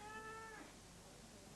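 A sick cat at a veterinary clinic lets out one short, tonal meow that fades after about half a second, heard quietly over steady room noise.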